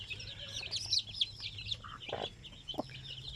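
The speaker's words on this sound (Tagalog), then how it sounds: "Yan o mga sisiw." Newly hatched zampen chicks peeping, a cluster of high thin chirps close by, with a couple of lower clucks from a hen underneath.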